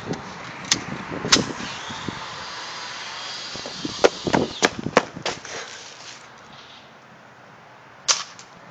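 An airsoft gun fires a series of sharp, close snapping shots in irregular bursts, followed by quieter stretches and one last crack.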